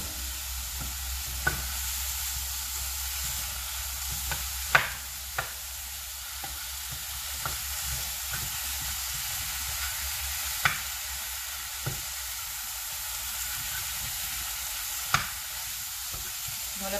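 Oxtail pieces fry in oil in a cooking pot with a steady, soft sizzle, broken now and then by sharp clicks and clacks as the meat is stirred.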